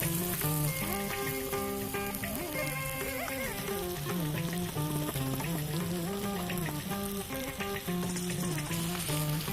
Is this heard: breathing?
no